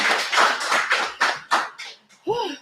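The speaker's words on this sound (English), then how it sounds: "Let's give them a round of applause as we go around this year." Audience applause at a youth concert in San Diego, sounding as a few bursts of clapping that swell and fade in rapid pulses before a voice cuts in at the end.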